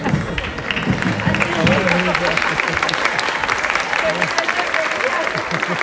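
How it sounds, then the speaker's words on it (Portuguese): An audience at a folklore festival in Relva, Ponta Delgada, Azores, claps steadily for a dance troupe, a sustained loud wash of applause with a voice talking over it. "um aplauso de bravo"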